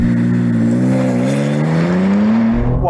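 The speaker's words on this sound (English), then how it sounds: "I've timed a normal M4 competition and did 0 to 60 this quickly" A BMW M4 Competition launching hard from 0 to 60, its engine roaring loud and steady as the pitch climbs through the gears, heard close from inside the car with no talking.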